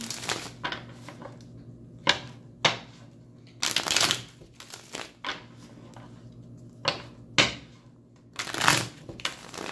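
Repeated bursts of tarot cards being shuffled, crisp riffling rushes at an uneven pace with short quiet gaps, close and fairly loud.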